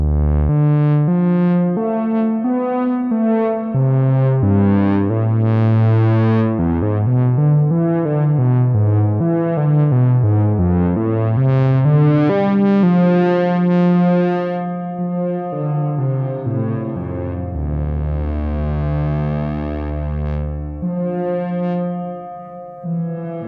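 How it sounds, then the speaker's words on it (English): A Moog Grandmother analog synthesizer plays a sustained, shifting melodic line through its built-in spring reverb, loud and continuous with gliding pitches and a rich, echoing tail, with no voices. "there is a spring reverb on this, which I think is amazing and bizarre"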